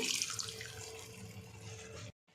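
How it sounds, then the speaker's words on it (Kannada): Water streams steadily into a cooking pan of moong dal for about two seconds, a continuous splashing rush, then stops abruptly with a brief quiet gap. "ಈಗ ಸ್ವಲ್ಪ ನೀರು ಹಾಕ್ಕೊಳ್ತಾ ಇದ್ದೀನಿ."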